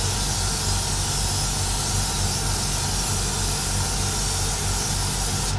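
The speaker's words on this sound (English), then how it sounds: "what we're going to do is just lightly misting on a coat" A spray can lightly mists a coat of paint onto a part, giving a steady, loud, unbroken hiss that runs the whole time and cuts off abruptly at the very end.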